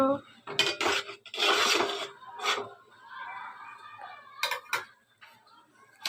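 A metal cooking pot is lifted off a stove, giving a few loud clanks and scrapes of cookware in separate bursts, with quieter rattles between them and no talking.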